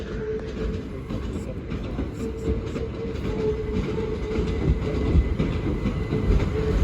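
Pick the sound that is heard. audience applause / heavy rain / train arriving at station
train arriving at station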